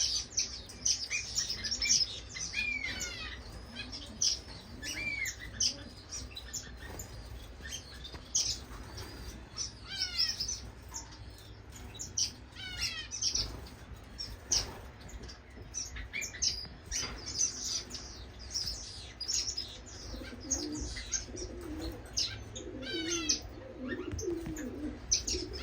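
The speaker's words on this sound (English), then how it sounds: "I still got the pigeons on this side." Pigeons coo steadily in an indoor bird room, their low repeated calls mixed with bright chirps and tweets from finches, a busy continuous chorus throughout.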